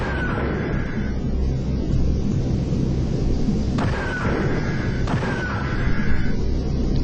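Repeated weapon fire in the strategy game Terror From The Deep, heavy booming blasts and crackling shots layered over a rumbling backdrop, with sharp bursts arriving at intervals through the stretch.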